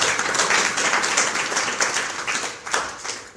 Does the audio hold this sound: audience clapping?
yes